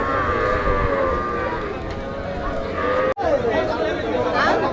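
Small native Bangladeshi cattle moo at a busy village cattle market, long drawn-out lows rising over a constant crowd chatter and nearby voices, with one brief sharp break midway.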